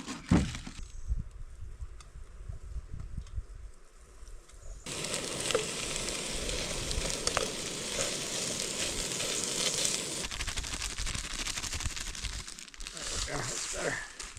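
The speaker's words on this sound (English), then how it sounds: "Now, just cook us some sausage." Sausages frying in a pan, a dense crackling sizzle that swells partway through and stays loud and close, with someone talking over parts of it.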